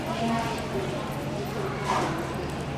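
A gaited Tennessee Walking Horse doing the running walk gives quick, even clip-clop hoofbeats, heard under a voice that talks throughout.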